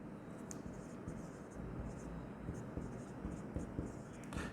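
Pen scratching steadily across paper while accounting entries are written out by hand, close and continuous with soft strokes and small taps throughout.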